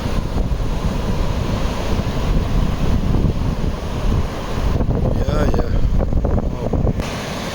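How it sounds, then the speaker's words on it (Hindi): Sea waves and wind at Marina Beach make a continuous loud roar of surf, with heavy wind buffeting the microphone throughout. "समुद्र"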